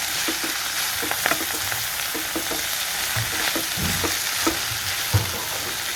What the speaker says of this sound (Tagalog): Ilalagay na natin yung ating broccoli